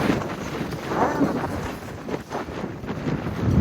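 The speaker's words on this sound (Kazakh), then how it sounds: "Жел." Cold winter wind blows steadily and gusts against the microphone outdoors, a continuous low rumbling rush with no talking.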